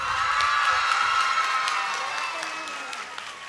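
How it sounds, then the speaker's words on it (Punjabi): A crowd at a Punjabi comedy stage show for a 2024 Jashan-e-Azadi celebration claps and cheers. The noise swells briefly and fades over a few seconds under a voice. "ਮਾਰ ਦਿਓ ਤਾੜੀਆਂ"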